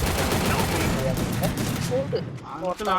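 Rapid bursts of gunfire from the mobile shooter game Free Fire crackle densely for most of the stretch and thin out toward the end, while players talk excitedly over the shots.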